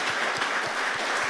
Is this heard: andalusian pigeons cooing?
no